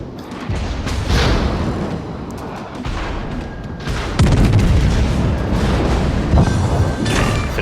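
Heavy naval gunfire from the battleship USS Massachusetts in World of Warships, a series of deep booming salvos with rumbling blasts, loudest around the one and four second marks, no talking.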